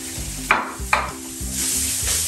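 Parboiled basmati rice stirred in a hot pan for fried rice, with a steady sizzle and a couple of sharp scraping strokes of the spoon cutting through it, close and fairly loud.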